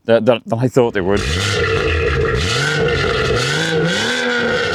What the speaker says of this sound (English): Scorpion exhaust, which sounds a lot better than I thought it would.